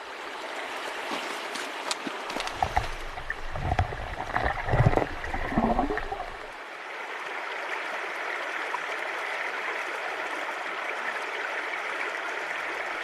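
Swollen spring river in the Changbai Mountains rushing steadily after rain, a broad continuous wash of flowing water, with a louder churning, splashing stretch in the first half before settling back to an even, unbroken rush.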